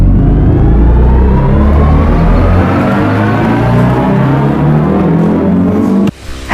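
A BMW i4 electric car drives with a loud, close synthetic whirring drive tone that rises steadily in pitch, layered with tyre and road noise, then cuts off abruptly near the end.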